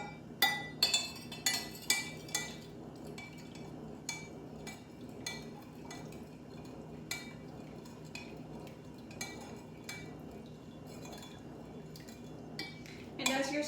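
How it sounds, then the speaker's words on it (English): A spoon stirs honey into a ginger decoction, sharp metallic clinks against the vessel coming quickly at first, then settling into sparser taps and a low swirling scrape, close by with no talk. "we're gonna stir the honey into our decoction here"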